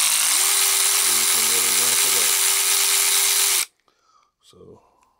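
A Snap-on CTR761C 3/8-inch cordless ratchet whines loudly and close, its motor pitch rising, then dipping and shifting through variable speed before cutting off abruptly, followed by brief faint handling sounds.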